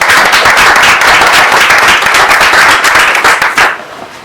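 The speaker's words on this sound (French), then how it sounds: "tu peux l'applaudir" Loud, dense clapping from a conference audience fills the room for about three and a half seconds before stopping abruptly, with no talk over it.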